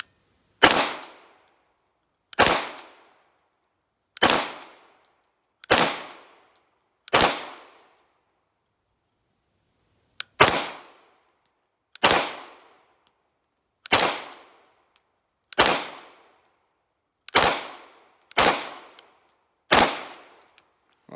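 A long string of loud, close 9mm shots from a Sig Sauer P320 pistol at an outdoor range: five steady reports, a pause of a few seconds, then about seven more at a slightly quicker pace, each a sharp crack with a brief tail.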